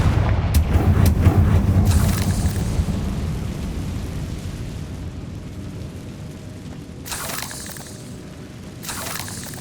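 A Confringo fire spell detonates in the Hogwarts Legacy video game, a deep booming blast at the start that rolls out into a long rumbling decay, with a few sharper crackling bursts later.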